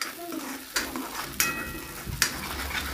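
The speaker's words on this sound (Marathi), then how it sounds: "त्यानंतर कढईमध्ये एक चमचा तेल घ्यायचं आहे आणि त्यामध्ये ग्राइंड केलेला आपला मसाला टाकायचा आहे।" Ground masala frying in a spoonful of oil in a kadhai, a soft sizzle broken by a few sharp scraping stirs and clinks of a spoon against the pan, close by.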